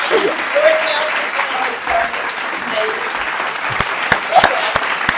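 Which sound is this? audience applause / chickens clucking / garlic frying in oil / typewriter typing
audience applause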